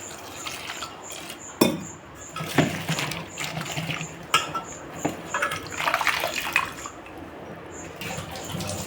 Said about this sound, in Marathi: याच्यामध्ये पाणी टाकून स्वच्छ धुवून घेऊया.